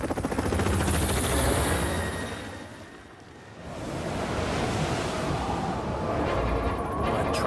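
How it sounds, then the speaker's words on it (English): A helicopter's rotor chops and roars steadily with rushing wind, fading briefly midway before swelling back up close by. "Lucky we helicopters can't get stuck in the snow"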